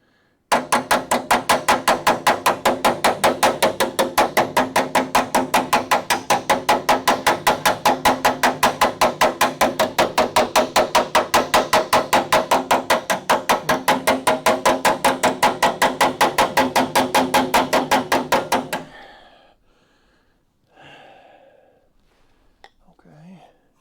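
Hammer and dolly flattening a sheet metal flange on a Charger crew cab restoration, a long rapid run of sharp metallic blows at an even rhythm, followed by a brief quiet stretch with soft talk.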